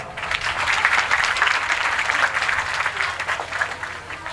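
Audience applause at a Hindi poetry recital, many hands clapping steadily and densely for over four seconds at an even, moderate level with no voice rising above it.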